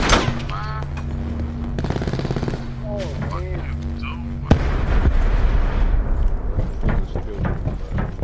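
Rapid bursts of gunfire from a video game firefight, dense and loud, with a sharp crack partway through, mixed with game sounds and voices talking over the action.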